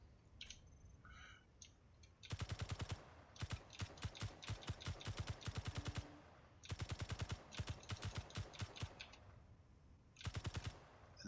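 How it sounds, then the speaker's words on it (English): An automatic rifle fires in the Zombie Dance Party video game: rapid bursts of shots with short gaps between them, loud and close, starting after a quiet opening of faint game sounds. "select the automatic rifle."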